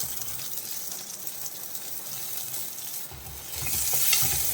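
Small onions with ginger and garlic sauté in a pan for a stingray curry, giving a continuous soft sizzle with faint stirring that grows brighter and louder toward the end, with no voices.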